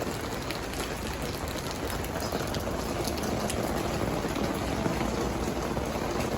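Steady rain falls in a continuous dense patter, an even hiss with scattered drops striking a surface nearby.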